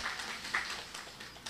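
A church congregation claps hands in brief, faint scattered bursts, a few soft rhythmic claps spread across a quiet room.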